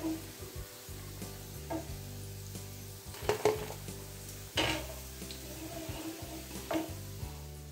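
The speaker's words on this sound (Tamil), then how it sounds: "நம்ம எல்லா உருண்டையும் பொறிச்சு எடுத்தாச்சு" Mutton kola urundai meatballs fry in oil with a close, steady sizzle, broken by the clinks and scrapes of a ladle or spoon against the pan at irregular intervals.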